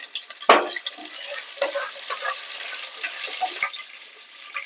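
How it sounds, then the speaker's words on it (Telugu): Fenugreek seeds, cumin and curry leaves hit hot oil for tempering, a sharp loud burst of sputtering followed by lighter crackling pops and a soft fading sizzle. "ఆయిల్ వేడయ్యాక ఒక స్పూన్ తాలిం గింజలు ఒక స్పూన్ జీలకర్ర వేసుకోవాలి వెంటనే కరివేపాకు కూడా వేసుకోవాలి"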